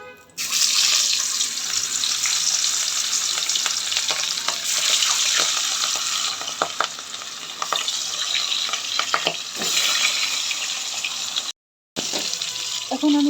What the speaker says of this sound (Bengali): ডালের যে বড়াটা আমি ভেজেছি সেটাতে সেই তেলে আমি মাছটা ভেজে নিব।